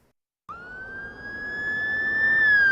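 An emergency vehicle siren starts abruptly after a short silence and holds a loud, steady rising wail close by, growing slightly louder with no talking.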